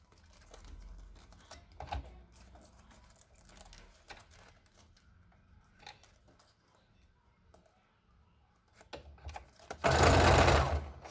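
Sewing machine stitching bias binding onto pockets of a clear plastic mask pouch, faint handling and clicks before a loud, fast, steady whir of stitching near the end, close.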